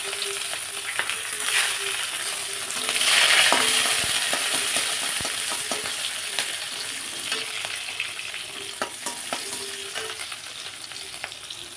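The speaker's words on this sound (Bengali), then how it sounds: "পেঁয়াজটা বেশ 15 থেকে 20 সেকেন্ডের মতো আমি ভেজে নিয়েছি" Chopped onion with dried red chillies fries in a hot pan, giving a steady bubbling sizzle that swells briefly, with scattered clicks of stirring and no talk.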